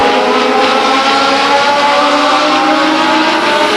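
Legends race cars racing at Stockton 99 Speedway in 1999, a loud, steady, high-pitched drone of several engines at speed, sustained without a break and with no voices over it.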